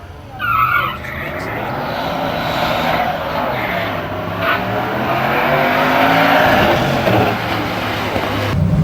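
A supercharged Ford V8 in a Volvo 740 accelerates hard off the line, the engine roaring loud and close with rising revs and tire noise, sustained for several seconds.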